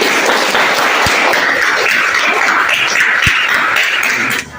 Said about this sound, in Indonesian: Sekali lagi beri tepuk tangan pada beliau.